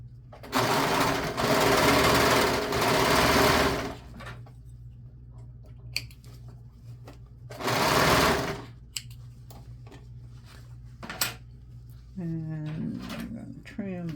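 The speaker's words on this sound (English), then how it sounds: "we want to sew straight across this and make a seam" A sewing machine runs a straight seam across fabric for cat-toy work. It whirs loudly close by in two bursts, one longer and one shorter, separated by quiet handling knocks and clicks.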